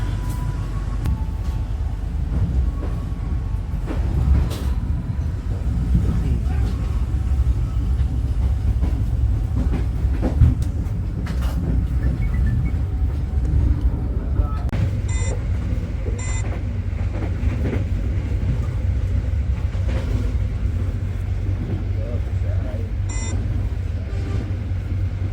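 The Dharmawangsa passenger train from Jakarta's Pasar Senen to Surabaya's Pasar Turi rumbles steadily on the rails, heard from inside with a continuous low roar, scattered clicks and clatter, and a few brief high beeps toward the end.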